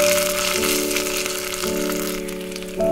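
Onions fry in hot oil with panch phoron in a pan for a curd brinjal curry, giving a steady, close, crackling sizzle over a constant low hum.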